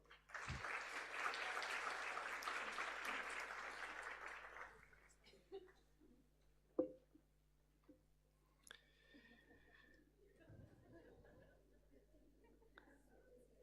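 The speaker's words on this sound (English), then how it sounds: "We can give them another round of applause" A school prizegiving audience applauds award winners for about four seconds in a dense burst, then it falls to a quiet room with scattered thumps, rustles and faint murmurs.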